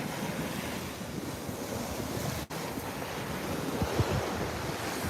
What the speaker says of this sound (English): Look at this ocean.